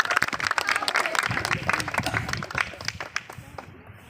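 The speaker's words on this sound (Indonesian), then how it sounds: "semuanya berdiri dan berikan aplaus untuk kita semua" A group standing together at a team-building game gives a round of applause, dense clapping from many hands close by that thins out and fades toward the end, with some voices mixed in.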